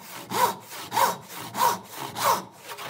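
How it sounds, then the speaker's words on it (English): A handsaw cuts through wood in steady back-and-forth strokes, four rasping pulls evenly spaced, close and clear with no talking. "if I start sawing away from the line like this"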